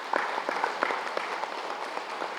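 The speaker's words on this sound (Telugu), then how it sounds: "దాన్ని గట్టిగా చప్పట్లు కొడదాం." An audience clapping together at a gathering, steady hand claps from many people, moderately close, with a few sharper individual claps standing out.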